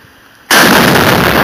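A cannon fires during a test shot: after a short hush, a single sudden, very loud blast bursts out, and its heavy roar rolls on without a break to the end.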